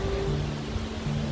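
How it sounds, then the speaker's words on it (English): Waterfall in Iceland in February, a steady broadband roar of falling water close by, with faint tonal hum riding underneath. "Waterfall number 2"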